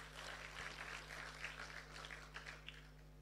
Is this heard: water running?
no